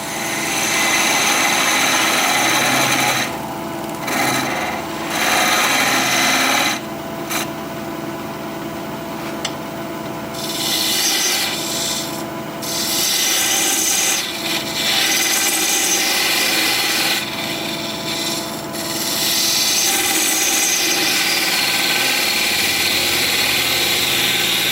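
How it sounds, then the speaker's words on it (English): A parting tool cuts into a wooden vase spinning on a wood lathe, giving a steady, loud scraping and rubbing drone with the motor's whine underneath. The cut comes in several bursts of harsher high-pitched cutting and runs the whole time with no talk. "I'm just going to use a parting tool to kind of separate here what I'm doing."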